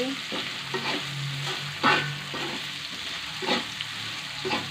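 Noodles being stirred with sugar in a hot frying pan for shrimp and green bean fried noodles, with a steady sizzle broken by several scraping stirs of the spatula.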